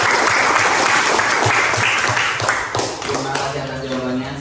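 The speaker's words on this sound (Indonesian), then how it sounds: "Oke, tepuk tangan." A group claps together in a classroom teaching session, a brief burst of loud mixed clapping with voices mingled underneath, tapering off after a few seconds.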